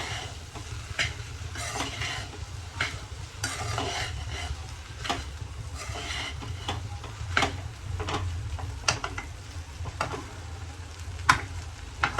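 Okra cooks over low gas in a pan, giving a soft continuous sizzle and frying crackle with steady scraping stirs and occasional light utensil taps against the pan.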